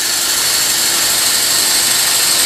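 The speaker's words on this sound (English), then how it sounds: "You just drill it straight in like that," A drill bores slowly into a wooden bottle stopper, giving a steady, loud, even whirring hiss that holds without pause throughout.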